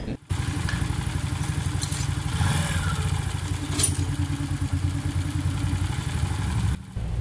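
Rebuilt Modenas Kriss 110/120 small motorcycle engine idling steadily after an overhaul with a new con rod, a continuous close low putter with a faint light mechanical clatter throughout.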